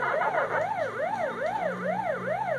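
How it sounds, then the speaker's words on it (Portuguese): The ghost siren in the Pac-Man arcade game wails in a rapid rising-and-falling electronic sweep, looping steadily and loudly with no voices over it. "Esse barulho que fica fazendo, parecendo uma sirene de ambulância"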